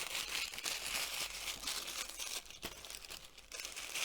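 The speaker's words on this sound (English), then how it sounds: "So we'll wrap those back up in their little bit of tissue." Thin tissue paper crinkling and rustling as small items are wrapped back up, a close, continuous crackly sound lasting several seconds with no talking.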